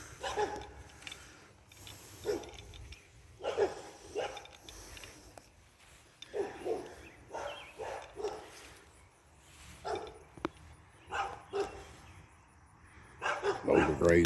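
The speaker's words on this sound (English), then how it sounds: "always got a dog or two barking." Dogs barking at a cemetery in Danville, Kentucky, scattered distant barks and yips spread over the stretch while someone talks nearby.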